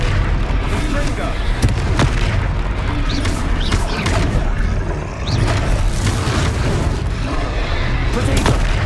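Confringo fire spell blasts in the Hogwarts Legacy video game, dense booming impacts under a continuous roar of combat noise and battle music, loud throughout, with voices shouting.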